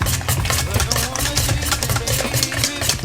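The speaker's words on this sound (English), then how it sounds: "And then you go again and mix." Chocolate banana bread pudding batter being mixed in a bowl, a steady, close churning whir with a low rumbling drone that runs without pause for the whole stretch.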